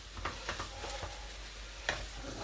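A spoon stirring an omelette mixture of egg, sausage, frankfurters and beans in a pan, giving a few quiet scraping taps spaced irregularly over a faint background sizzle, with no talking.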